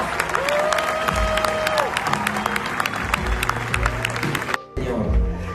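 A church congregation at a Spanish-language evangelical service claps loudly and steadily for about four and a half seconds, with a sustained tone and voices mixed in. A brief gap follows before the applause resumes.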